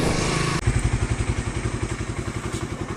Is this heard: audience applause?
no